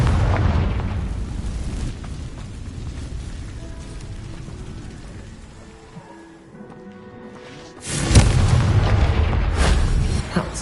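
A Confringo fire spell blasts in the Hogwarts Legacy video game, giving a loud booming explosion with a rumbling roar, a quieter lull, then a second powerful burst that swells and holds.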